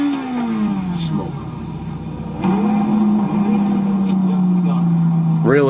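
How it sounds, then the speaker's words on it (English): A Lamborghini Murcielago engine revs close by, its pitch sliding down and then holding a steady roar, with people talking over it. "Dude, it's a Murcielago. They're both Murcielagos."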